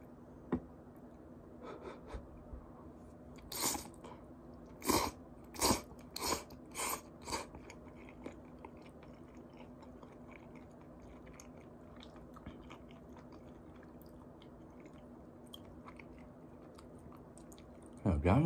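A few crunchy chewing and biting bursts from eating FamilyMart convenience-store biangbiang noodles, close and fairly loud in a cluster, then quieter mouth sounds over a low room hum.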